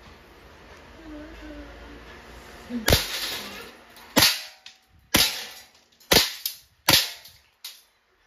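Umarex airsoft Glock 17 Gen 3 Deluxe shooting steel balls, sharp close snapping reports, six in an uneven sequence after a brief murmur of speech.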